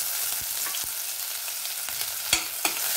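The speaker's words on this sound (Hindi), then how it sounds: "अब मैं इसमें एक हरी मिर्च और अदरक की यहाँ पे मैंने थोड़ा दरदरा पेस्ट बनाई है तो इसमें डाल दूंगी" Coarse green chili and ginger paste dropped into cumin frying in hot oil for a Gujarati methi besan dish: a loud, steady hiss and sizzle up close, with a few sharp stirring knocks and no talking.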